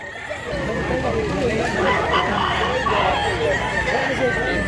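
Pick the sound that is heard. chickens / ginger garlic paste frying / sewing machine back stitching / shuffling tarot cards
chickens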